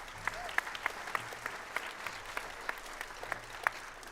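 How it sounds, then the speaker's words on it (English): Applause rises from a band concert audience, fairly faint and distant, with a soft wash of clapping broken by a few sharper individual claps at intervals. "give her a round of applause"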